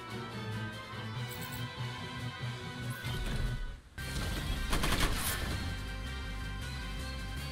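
Mech weapons fire in the turn-based strategy game Front Mission 1st: Remake, with dense bursts of rapid gunfire and crashing impacts layered over a continuous game music bed, briefly dropping out before resuming louder.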